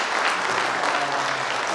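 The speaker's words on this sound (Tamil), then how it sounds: "ஒரு பெரிய கைத்தட்டலும் நன்றிகளும்." Audience at a business anniversary celebration in Kanchipuram breaking into loud, dense applause, a continuous roar of many hands clapping close by throughout.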